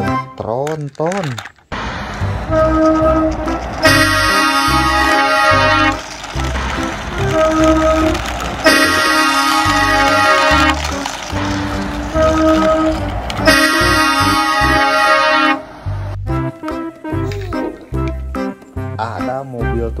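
A heavy tronton truck sounds its horn in several long, loud blasts amid a busy, music-like mix of other sounds.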